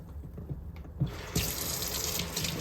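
Warm tap water runs from a faucet into a sink, a steady hiss that grows fuller and louder partway through and then continues evenly, close by, with no talk.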